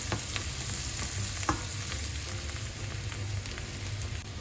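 Garlic frying in butter in a pan, a steady broadband sizzle holding throughout with a few brief clicks and a louder tap near the middle, no voices.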